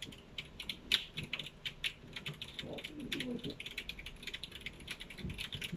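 Typing on a computer keyboard on a film set, with quick irregular keystroke clicks tapping at close range throughout, fairly quiet, and a low murmur of background noise beneath.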